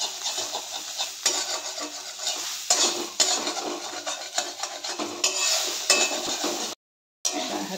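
Bitter gourd (kalara) fried in a pan and stirred, with steady scraping and rubbing of a utensil against the pan over a continuous hiss, a brief silent gap near the end.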